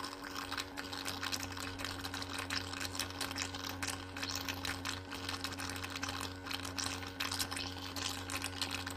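A soap dispenser pump working continuously to push soap through, giving a steady mechanical whir with rapid clicking and rattling, fairly quiet and close.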